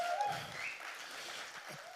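Applause from a conference audience for a panel at a leadership event, a steady wash of clapping held at an even level for the whole two seconds, with no voices over it.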